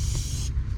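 Lysol disinfectant sprayed onto a car pedal, a single short hissing burst lasting about half a second, close and clear.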